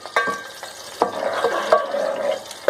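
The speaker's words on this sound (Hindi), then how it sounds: "हम हरी मिर्चों को अच्छी तरह से भून लेंगे।" Green chillies fry in a pan for dhaba-style mash ki daal, a steady close sizzle broken by several clattering stirs and scrapes.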